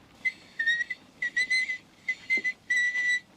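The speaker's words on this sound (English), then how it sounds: "Listen to that kid whistle." A seven-year-old girl whistles a short tune, played back from a recording, with clear pure notes in four bursts separated by brief pauses.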